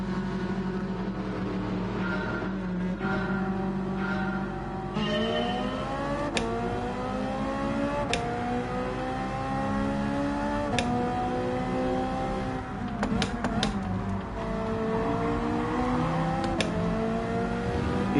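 Racing cars in Gran Turismo 7, including a Ferrari chasing a Nissan, scream along with a loud, steady, rising engine whine and repeated gear-shift steps, up close and without talk.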